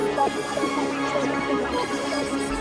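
A dense musical beat loop pitched down four semitones in FL Studio plays continuously, its lowered tonal layers and melodic phrases sounding thick and slightly murky at moderate level.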